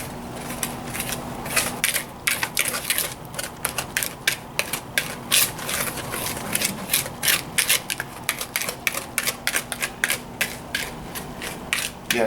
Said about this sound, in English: Now we whisk Dry ingredients.